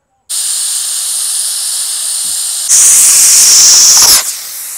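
A pressure cooker holding mutton head hisses loud and close, building a steady jet of steam that turns sharper and more forceful before cutting off abruptly.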